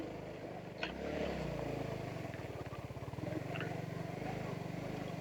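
A KLX trail motorcycle engine runs steadily on a slippery dirt road, a low throbbing drone with a slight rise partway through, heard close over wind and ambient noise.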